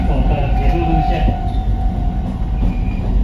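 Small narrow-gauge train of the Alishan Forest Railway in Taiwan climbing slowly uphill on the Shuishan branch line, a steady close rumble of wheels and carriage with a faint hum throughout.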